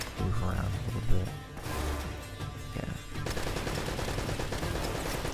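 Gunfire in Uncharted: Drake's Fortune, at a fortress with a turret and an explosive barrel, comes as rapid bursts and shots mixed with game ambience and blasts, with a person talking over the action.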